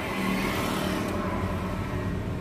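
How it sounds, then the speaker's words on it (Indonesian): A Toyota Sienta rolls over asphalt with a continuous, fairly loud roar of tire noise, a steady broadband hum heard from inside without pause. "bunyi dari roda, pergeseran roda dengan aspal itu cukup cukup keras"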